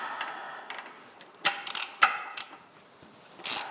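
A ratchet with a 13mm socket loosens a bolt on a John Deere 710 during inner input shaft removal, giving a few sharp, close metallic clicks and short bursts spaced irregularly over a quiet background.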